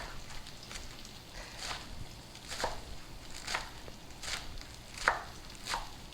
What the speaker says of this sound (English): And just do a nice thick chop.